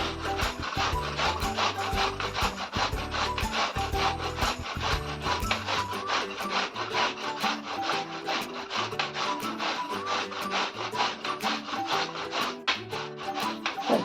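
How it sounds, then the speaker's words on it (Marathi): Mangoes being grated by hand into shreds for a traditional sweet murabba: a steady, continuous rasping scrape with fast repeated strokes running the whole time, close up and with no talking. "आपल्याला तीनही आंबे छान किसून घ्यायचे आहे"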